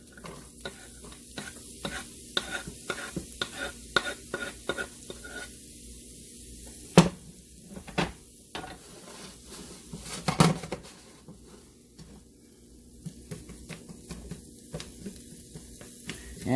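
Coarsely chopped vegetables sizzle and crackle in a hot pan for a breakfast casserole, with rhythmic stirring scrapes in the first half and a few sharp clatters later, close and fairly loud.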